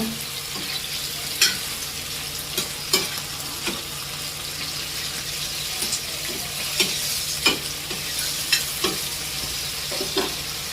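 Snail curry pieces fry with a steady hiss in a pan while a spoon scrapes and knocks in an irregular rhythm every second or so, close by and with no voices.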